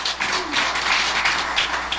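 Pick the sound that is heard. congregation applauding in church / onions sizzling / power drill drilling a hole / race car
congregation applauding in church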